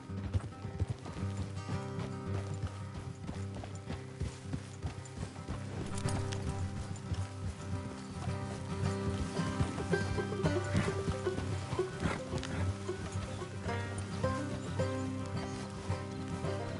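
Horse hooves clip-clop steadily in a Western-themed video game, several horses trotting together in a continuous rhythmic patter beneath ambient game sound.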